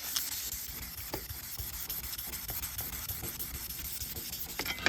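Hand sanding of stainless steel trim with fine 2000-grit paper before buffing: a steady close scratchy rubbing that runs continuously, with faint strokes and no talk.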